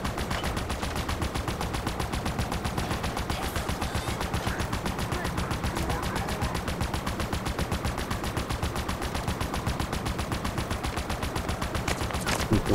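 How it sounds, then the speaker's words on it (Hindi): Sustained automatic gunfire from the video game Halo Infinite, a rapid, steady stream of shots rattling on without pause for the whole stretch, loud and close, with a few heavier bursts near the end. "गोलियां तो चलाते रहूंगा चलाते रहूंगा चलाते रहूंगा।"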